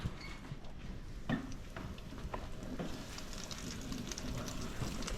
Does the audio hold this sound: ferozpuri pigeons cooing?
no